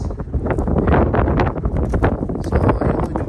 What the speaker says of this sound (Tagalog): Tsaka grabe hangin pa.